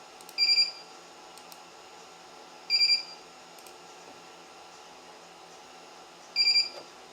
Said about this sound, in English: So it is constantly beeping right now.